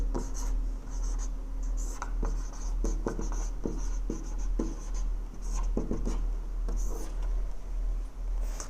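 Writing on a board during a classroom lesson, heard as repeated scratchy chalk strokes and taps in short bursts, fairly close, over a low background hum.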